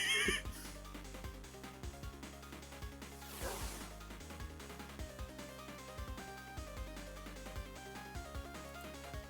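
A donkey in the Minecraft video game brays and whinnies over steady game music and ambient sound, a few drawn calls within the mix.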